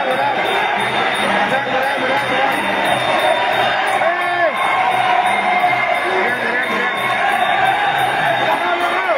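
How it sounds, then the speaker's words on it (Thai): Crowd at a live match shouting and yelling, a dense, loud, continuous roar of many voices with whoops rising above it throughout. "ตะโกนแล้วนะครับตะโกนโวยวายแล้วนะครับ"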